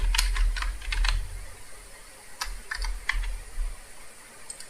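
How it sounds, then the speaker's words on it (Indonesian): Computer keyboard typing a name into an Excel VBA search form, two short bursts of quick, light key clicks separated by a pause, close and fairly quiet with no talk. "ketika Anda ketik nama di situ"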